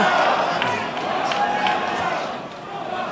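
Crowd at a boxing match between Maurice Brantley and Stéphane Desormiers chanting "Go, Steph, go", a loud rhythmic mass of voices filling the arena, with a commentator talking over it.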